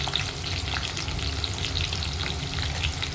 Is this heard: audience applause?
no